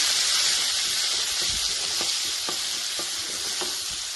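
Garlic cloves, onions, lentils and green chillies frying together in a pan make a constant sizzling hiss, with a handful of light, evenly spaced stirring taps. It is heard up close, and no voice is present.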